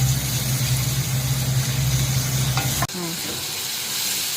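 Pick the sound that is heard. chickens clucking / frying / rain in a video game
frying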